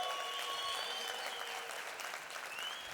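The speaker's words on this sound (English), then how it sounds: "Let's actually give them another round of applause." Steady applause from a crowd at a business event, continuous and fairly even throughout, with a faint tonal hum beneath the clapping.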